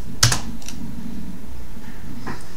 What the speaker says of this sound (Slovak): stlačím tlačidlo Enter alebo kliknem na poslať